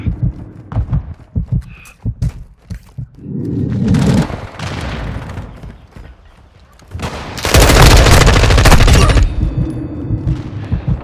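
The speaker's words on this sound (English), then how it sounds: "Taking effective fire!" Gunfire and combat noise in Call of Duty: Modern Warfare, with scattered sharp shots, a deep throbbing rumble, and a loud sustained barrage in the later half.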